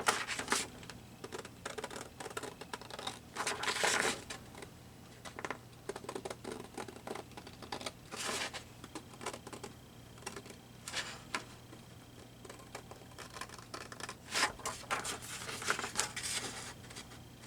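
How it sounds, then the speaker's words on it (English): Scissors cut paper for a junk-journal collage, giving quiet, close crisp snips and rustling scrapes in irregular bursts over a faint background hum. "Scissors."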